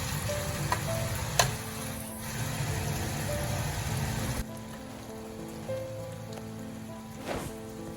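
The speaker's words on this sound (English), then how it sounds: "because I like my meat sizzling in the oil." Meat for Filipino three-meat menudo sizzles in hot oil in a pan, a steady crackling hiss that continues for the whole stretch, with a few sharp pops and no talking.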